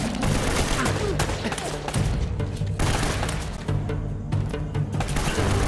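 Shotgun and other gunfire in the video game Uncharted: Drake's Fortune, a dense, loud barrage of booming shots and thuds running throughout with no clear pauses.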